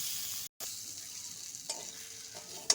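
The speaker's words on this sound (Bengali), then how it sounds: "পনির দিয়ে দিয়েছি মশলার মধ্যে, মশলার সঙ্গে কিন্তু মিশিয়ে নিচ্ছি।" Paneer being stirred into a spice masala in a pan, frying with a low steady sizzle, with a brief dropout and a few scraping knocks from the stirring.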